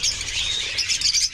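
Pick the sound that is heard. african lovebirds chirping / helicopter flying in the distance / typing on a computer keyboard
african lovebirds chirping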